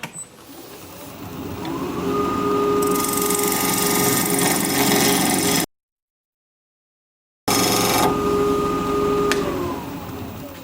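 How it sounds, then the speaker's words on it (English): Wood lathe spinning a hard desert oak bowl at 1300 RPM while a skew chisel cuts down the tenon, a steady loud whirring hum with scraping chisel noise, broken by a short silence before resuming. "I'm just going to use a skew chisel to reduce the size of this tenon down to that line"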